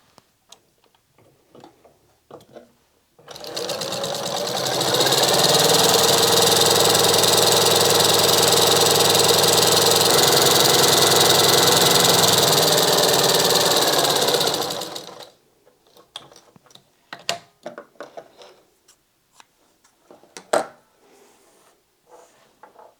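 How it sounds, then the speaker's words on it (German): A sewing machine zigzag-stitches both sides of a fabric bag in one steady, loud, whirring run of about twelve seconds. Faint clicks and handling noises come before and after it. "nun steppen wir das Ganze auf beiden Seiten mit Zickzack ab."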